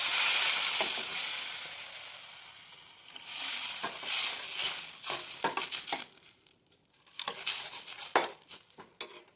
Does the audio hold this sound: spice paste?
yes